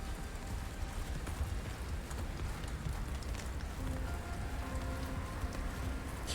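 Stormy weather in the video game Subnautica: Below Zero, with rain and hail pelting down in a dense, steady patter of close drops that holds evenly for the whole stretch, no voices present.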